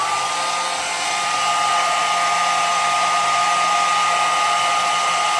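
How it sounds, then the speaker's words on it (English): A blow dryer running on its low heat setting, a continuous steady airy whoosh heard close and alone, holding even throughout. "I'm gonna do one more shot of heat because my blow dryer is on low"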